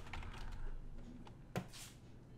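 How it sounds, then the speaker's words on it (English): Typing on a computer keyboard: a quick irregular run of soft key clicks, close and fairly quiet, with one sharper louder tap near the end. "I'm typing wrong."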